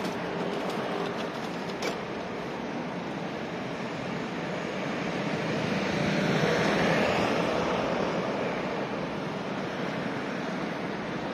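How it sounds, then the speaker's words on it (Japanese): Train passing near Kameido Station in Tokyo, a broad distant rumble that swells slightly midway and then eases, heard outdoors on a cloudy day with steady background noise. "亀戸駅、あ、電車通ってるの見えてる。"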